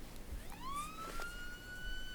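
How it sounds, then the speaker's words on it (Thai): A police siren wails at a distance, one rising tone that sweeps up and holds, faint against a low background rumble, with no voices. "อ้าวทำไมเสียงตำรวจมา"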